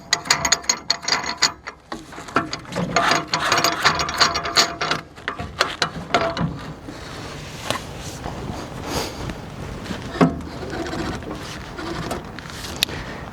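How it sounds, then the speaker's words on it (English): A Paratech rescue strut is extended and its collar locked, giving close, rapid ratcheting clicks and metallic clanks that come in bursts and then thin out into sparser knocks and rattles. "You would extend your strut as far as possible and bring the collar down to lock it in place."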